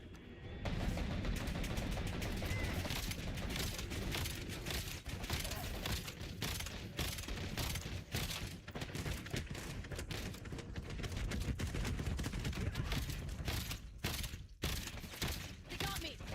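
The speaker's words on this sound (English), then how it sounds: "I'm under fire." Rapid gunfire in the Call of Duty video game, dense overlapping bursts and shots crackling almost without pause, loud and close throughout.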